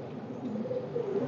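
Pigeons on a rooftop give a faint, low, rolling coo that lasts only a moment, heard alone against soft background noise.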